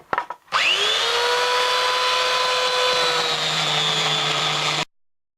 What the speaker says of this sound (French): on se retrouve pour le ponçage